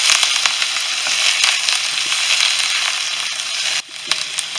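Pieces of chicken sautéing in a pan for Chicken Manchurian, a dense, bright, continuous sizzle heard up close that drops off suddenly near the end, then resumes more quietly.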